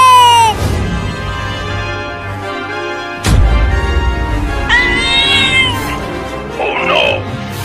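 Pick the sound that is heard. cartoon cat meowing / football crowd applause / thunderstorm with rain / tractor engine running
cartoon cat meowing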